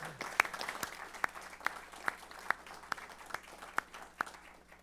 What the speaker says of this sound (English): So a little round of applause for him, I think,